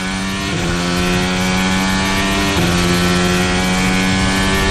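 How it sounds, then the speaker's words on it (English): Formula 1 car at the 2023 Sao Paulo Grand Prix, a loud sustained high-pitched engine whine that dips briefly twice as the revs shift, then holds steady with no talking. "This is the sound of Carlos Sainz, who gets close in the braking zone"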